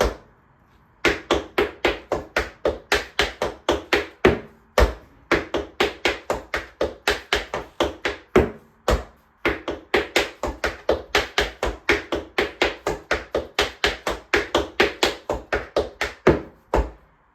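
Intermediate tap dance combo of rolling riffles with heel drops, a fast steady stream of crisp metallic taps punctuated by heavier heel accents, close and alone for about sixteen seconds after a brief silence.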